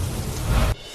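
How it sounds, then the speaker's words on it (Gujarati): Heavy rain falling in Veraval, Gir Somnath, a loud broadband rushing wash with low rumble that cuts off abruptly near the end, no voices. "ગીર સોમનાથમાં વેરાવળમાં ધોધમાર વરસાદ।"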